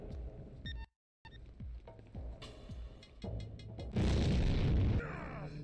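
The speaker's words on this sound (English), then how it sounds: "I died! Ah, the explosion! It hurt my head." A bomb goes off in the video game Hitman 2: Silent Assassin, a sudden loud boom after a brief dropout, followed by a dense burst of blast noise near the end amid assorted game sounds.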